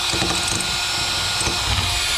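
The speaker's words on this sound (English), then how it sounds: "grab yourself a drill with a wire wheel" A power drill whirs continuously up close, with a harsh, gritty scraping and rattling as a wire wheel grinds rust from a stuck receiver hitch.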